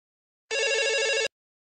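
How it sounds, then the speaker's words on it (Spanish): A single telephone ring, one steady electronic bell-like burst lasting under a second, loud and close, then silence. "al día siguiente, a la misma hora, vuelve a sonar el teléfono"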